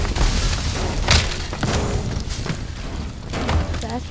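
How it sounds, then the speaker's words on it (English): A big explosion in the destruction game Teardown: a dense crackling roar of debris punctuated by several sharp booms and thuds, loud and close, with no speech. "That was a big explosion."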